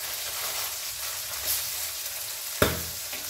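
Fenugreek seeds sizzle in hot oil in a pan for a steady crackling hiss, with one sharp, sudden pop near the end as a seed jumps.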